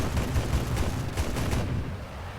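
A MiG-9's guns fire in War Thunder in a loud, rapid burst of heavy, rumbling gunfire that runs steadily for about two seconds and then cuts off.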